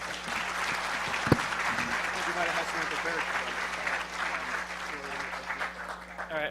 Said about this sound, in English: Lady Ada, give them a round of applause.